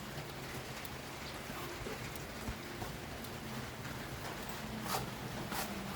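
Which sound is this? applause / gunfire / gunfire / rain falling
rain falling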